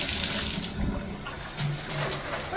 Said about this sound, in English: Let's do a shower test.